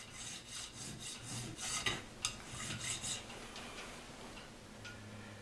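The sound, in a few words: filing down an ivory blank for a guitar fret nut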